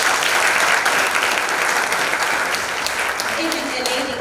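An audience at a G20 symposium gives a big round of applause for the young speakers, a loud, dense and sustained clapping that fills the room, with a voice faintly audible underneath.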